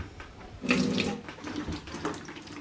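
Water runs from a tap into a bucket in a cabin, a short, close splashing gush that starts abruptly and keeps pouring unevenly.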